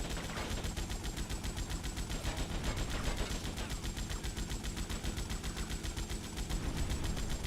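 Rapid, steady automatic gunfire in Grand Theft Auto Vice City during a helicopter mission, a continuous loud rattle of evenly spaced shots that keeps going without a break.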